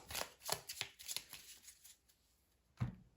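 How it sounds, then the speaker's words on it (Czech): Cashflow board game cards are shuffled in a quick run of soft riffling flicks, then a pause and one last louder tap, close and quiet. "Kartičky zamíchám a umístím je na příslušné políčko."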